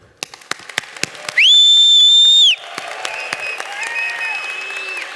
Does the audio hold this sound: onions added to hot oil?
no